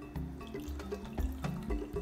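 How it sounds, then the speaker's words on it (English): A Malibu rum and Coke cocktail being poured from a shaker into a glass, a close, gurgling splash of liquid in uneven bursts over about two seconds. "And we're gonna pour."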